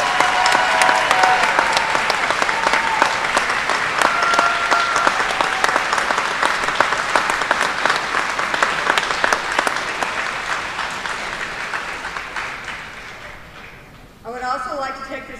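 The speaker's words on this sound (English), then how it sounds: "let the students give you a round of applause" Students give sustained, loud applause to parents at an underclassmen award ceremony, a dense steady clapping that gradually fades before a voice starts speaking at the end.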